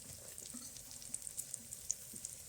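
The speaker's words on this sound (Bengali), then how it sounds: "এবার দিয়ে দিচ্ছি আদা বাটা কেটে রাখা কাঁচা লঙ্কা আর টমেটোটা দিয়ে দিচ্ছি" Ginger paste, green chillies and tomato frying in a pan for a country-style mutton curry, a soft steady sizzle with faint crackles and light stirring, quiet and close.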